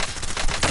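Rapid gunfire rattles in a video game shooter match, a dense loud burst of overlapping shots lasting under a second, close and harsh with a sharper crack near the end.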